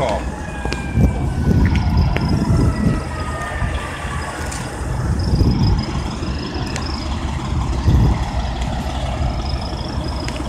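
An ambulance siren wails faintly in the distance behind heavy truck rumble and street noise, with murmuring voices nearby.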